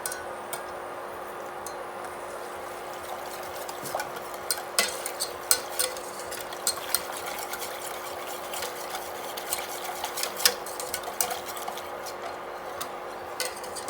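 Veal stock sauce is stirred in a pan over gentle heat, with a steady simmering hiss and irregular light clinks and scrapes of a utensil against the pan, close and alone.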